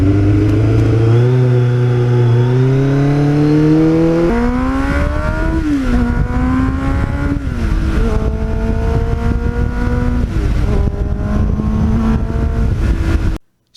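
A restored Kawasaki GPX750R Ninja motorcycle engine on a ride, loud and close, revving up through the gears with rising pitch, brief drops at each shift, then climbing again before cutting off abruptly.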